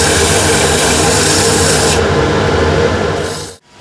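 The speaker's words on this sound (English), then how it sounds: "Sanding is done." Sandpaper rubbed against a turned ash wood box spinning on a lathe, a loud continuous rasping hiss that brightens partway through and then stops abruptly near the end.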